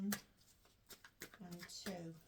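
Tarot cards being shuffled by hand, a few quick riffling bursts and soft slaps close by, with a voice speaking between them.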